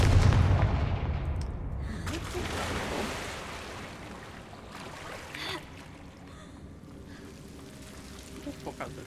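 A Confringo blasting-spell explosion in Hogwarts Legacy lands as a heavy, deep boom at the start, then fades into a long rumbling tail over faint game ambience.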